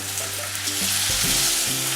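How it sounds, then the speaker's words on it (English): Loud, steady sizzling of thick burger patties frying in a hot pan, a continuous crackle with some low clanks or shifting sounds underneath. "let's get those burgers in and just get them in. They should sizzle away."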